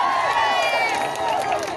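A large crowd at a Women's March for Justice rally in Canberra cheers and shouts loudly and continuously, with many overlapping voices close by.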